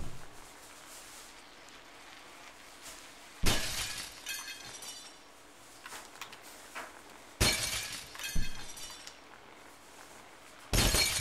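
Glass shatters three times in the Happy Wheels video game level Glass Fall, each a sudden loud crash with tinkling debris, separated by quieter stretches of low background noise.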